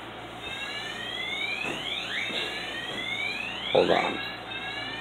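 A building fire alarm sounds continuously as a series of repeating rising electronic sweeps, fairly loud and steady, while a person briefly speaks over it.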